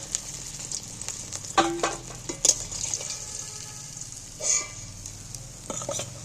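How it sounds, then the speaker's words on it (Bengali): Fish fries in hot oil with a steady bright sizzle, interrupted by scattered clinks and scraping as pieces are lifted and drained, moderately close and with no talking. "আমি লাল লাল করে মাছটা ভেজে নিয়েছি এইবার আমি মাছটাকে তেল ঝাড়িয়ে তুলে নিচ্ছি"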